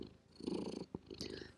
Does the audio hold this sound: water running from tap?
no